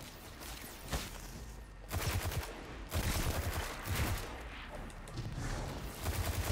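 Rapid bursts of automatic gunfire in the video game Destiny 2, loud and close, with repeated volleys separated by short pauses and no talking over them.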